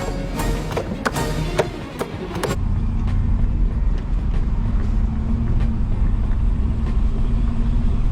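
A 1964 Cadillac on the road, its low engine and tyre rumble steady inside the cabin, with a few sharp knocks and taps early on before the drone settles into an even hum.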